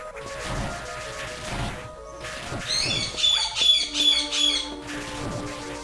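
A pet bird calls in bright, repeated chirps and squawks over steady video-game music and effects, loud and close, in a short burst of several calls.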